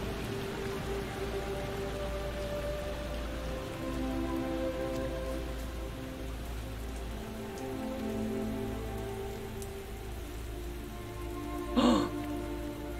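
Steady rain falls across a video game forest, an even hiss of drops on leaves and ground that runs throughout at close range, with one brief brighter splash of sound near the end.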